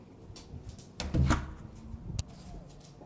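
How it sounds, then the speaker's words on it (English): A storage closet door is shut in an emptied house, giving a muffled thump with a brief latch click, close and moderately loud amid quiet room noise. "I'm going to shut the storage closet door."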